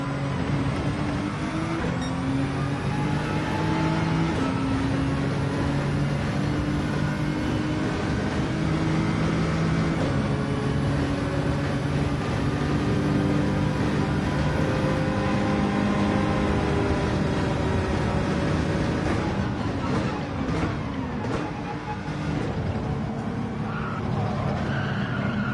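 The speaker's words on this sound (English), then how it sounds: "Overtaking a Bugatti Vision GT Group 1 as if it wasn't even moving." Race cars in Gran Turismo 7 overtaking a Bugatti Vision GT Group 1, with steady, loud engine drone and rising, shifting gear tones, a sustained roar of cars running close together, a brief skid-like flutter near the end.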